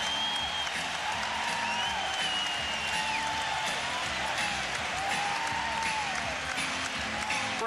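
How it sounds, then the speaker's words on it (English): A basketball arena crowd at a 1991 NBA playoff game between the Lakers and Warriors in Oakland roars steadily during a timeout, a dense continuous wash of cheering with whistles and shouts rising through it, loud and sustained throughout. "That got the crowd on their feet."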